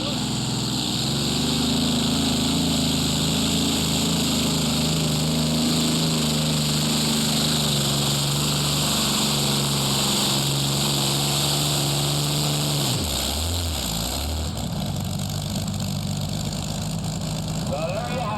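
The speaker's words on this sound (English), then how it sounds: "A V12 Packard running 24 exhaust pipes, 2 spark plugs for each cylinder" A big V12 Packard engine in a modified pulling tractor with 24 exhaust pipes rumbles loudly and steadily at a county fair tractor pull, its deep idle shifting pitch near the end as it revs; a voice may speak underneath.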